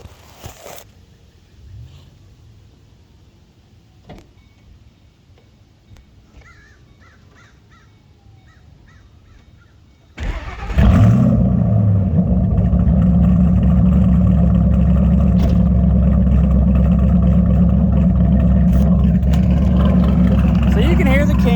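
After a quiet stretch, a Ford Mustang GT V8 engine cranks and roars to life nearby, then holds a loud, deep, rumbling idle.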